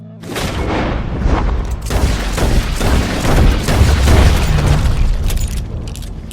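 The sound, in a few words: gunshot in the video game Red Dead Redemption 2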